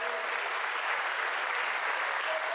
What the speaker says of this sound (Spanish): Un aplauso, por favor, que se escuche.